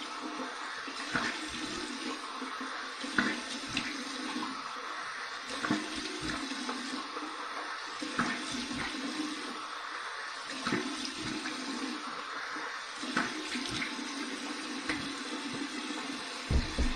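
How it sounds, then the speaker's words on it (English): A tap runs cold water steadily for a rinse after a wet shave with shave soap, a continuous close hiss of flowing water into a sink with small splashy bursts throughout. "Okay, cold water rinse."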